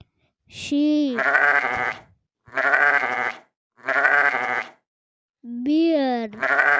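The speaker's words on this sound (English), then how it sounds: "sheep" A sheep bleats four times, each a loud, wavering call close by, separated by short pauses of silence.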